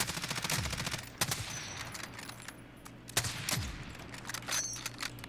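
Automatic weapon fire in the video game Call of Duty: Warzone, several sharp bursts and single cracks with metallic clatter between them, loud and close, no talking.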